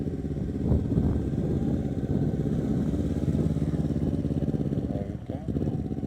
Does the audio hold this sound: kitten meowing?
no